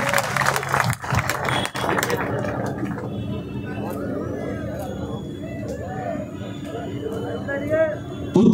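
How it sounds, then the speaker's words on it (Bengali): A crowd at a political rally claps loudly for a couple of seconds, then the applause fades into murmuring chatter and a voice over a loudspeaker. "জোরে হাততালি, দুষ্টু লোকেদের কানে যেন পৌঁছে যায় এই হাততালি"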